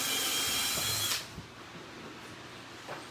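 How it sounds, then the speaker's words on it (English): Power drill backing screws out of a wooden frame for yard art: a loud, close, steady high whine for about a second, then it stops, leaving quiet handling noises and a light knock. "is going to take those screws out of the frame"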